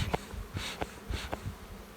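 Honeybees buzzing close by at a hive, a steady insect drone with a few louder passes, no voices.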